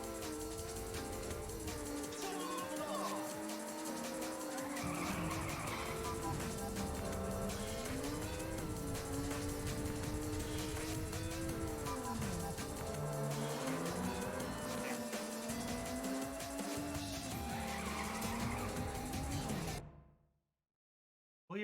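Race cars from Ridge Racer Type 4 on the PS1 roar steadily with engine tones rising and falling as gears shift, occasional higher squeals layered in, continuous and loud before cutting to silence at the end.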